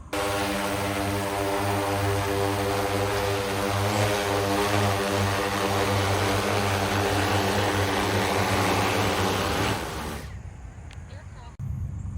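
A CHCNAV X500 LiDAR drone flying its survey route, a loud steady propeller whine with strong tonal harmonics holding for about ten seconds before dropping away, with no talk.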